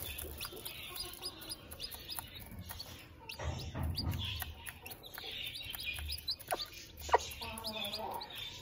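A newly hatched Aseel chick peeps in a series of soft, high chirps close by, with some faint background noise and low rustling around it.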